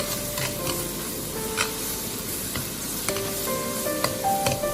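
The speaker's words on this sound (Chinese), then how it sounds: "油热之后下入大蒜和小米辣，再快速的翻炒" Garlic and bird's eye chili are stir-fried in hot oil in a wok, giving a steady loud sizzle with scraping and tossing sounds from the stirring, alone without talk.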